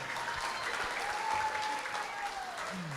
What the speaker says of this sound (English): how about one more round of applause for Representative Moroka